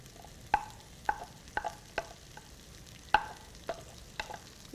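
Cabbage, carrot, capsicum and onion stir-fried in a pan, with sharp metallic clinks and scrapes from a spoon at irregular intervals over a faint sizzle, close and without voices.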